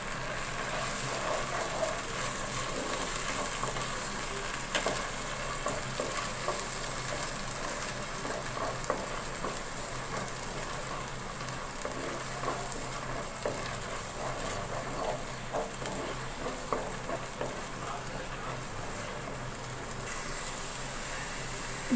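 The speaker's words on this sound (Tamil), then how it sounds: "இதையும் நல்லா அந்த எண்ணெயிலேயே வணக்கி விடுங்க. அந்த எண்ணெய் நல்லா பிரிஞ்சு வரணும்," Masala paste sautés in oil for a Tamil fish curry (meen kulambu), giving a steady, continuous sizzle with occasional stirring scrapes, fairly soft and with no talking.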